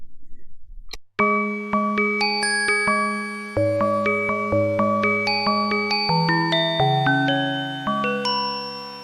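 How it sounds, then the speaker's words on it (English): A bell-like preset on the Plogue Chipsynth MD synthesizer rings out a sequence of bright, metallic chime notes, each struck cleanly and decaying, stepping through a melodic pattern with a sharp, piercing tone. "I think that sound kind of embodies a lot about what I don't like about bells"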